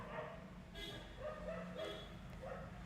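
Dogs on a street, agitated by a newly arrived street dog, bark and yip in short bursts at a distance, faint against low background noise.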